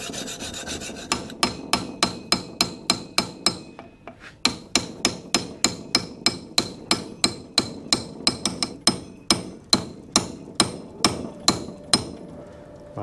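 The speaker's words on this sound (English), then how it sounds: "We'll hopefully be able to take the whole tube out just by hammering it." Steady, rapid metallic hammer strikes on a manual chisel driving out a front lower arm bush tube on a Range Rover Sport L494, sharp and close, continuing in a regular rhythm with a short pause partway through.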